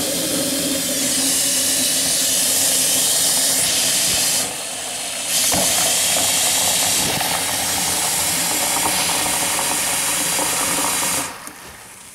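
Tap water runs steadily at a kitchen sink for about eleven seconds, a loud broad hiss with a brief dip in flow partway through before it cuts back near the end, heard alone without talk.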